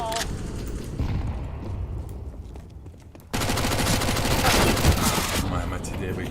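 In a multiplayer shooter match, a flashbang goes off, then a sudden loud burst of rapid gunfire opens and continues, dense and close, with players talking throughout.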